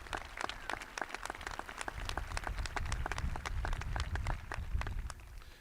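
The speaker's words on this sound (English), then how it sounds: "That's deserving of a round of applause." Crowd applause at a 2021 Thompson Valley High School graduation ceremony, many hands clapping in a dense crackle with a low rumble beneath, building slightly and holding steady throughout.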